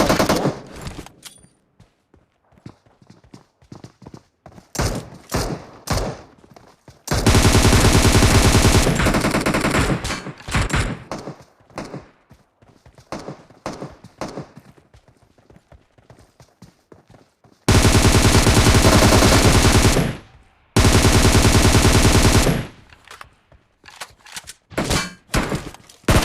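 Gunfire in a mobile battle royale game played solo against squads, with loud sustained automatic bursts, scattered single shots and thuds, and quiet gaps between the fights.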